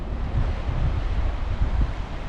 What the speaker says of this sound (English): The swell rolling in is pretty decent.